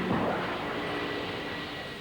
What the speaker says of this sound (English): Experts said the engine had backfired.